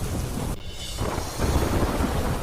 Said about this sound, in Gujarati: મોડી રાત્રે ગાજવીજ સાથે વરસાદ વરસતા રસ્તા પાણી થયા.